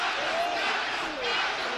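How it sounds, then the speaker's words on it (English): Boxing fans in an arena crowd chant a fighter's name after a celebrity boxing bout, a dense, steady roar of many voices filling the space at a moderate distance. "you can see the fans of cataefe chanting his name"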